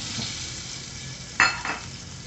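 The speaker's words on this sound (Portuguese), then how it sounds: "Em uma panela, vou adicionar 2 colheres de sopa de margarina" Margarine or butter sizzles in a cooking pan, a steady hiss broken by two short louder spits near the end.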